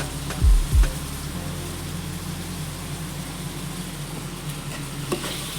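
Okra sautés with mint and coriander in a pan for prawn biryani, making a steady, fairly soft sizzle after two dull thumps at the start, with no voices.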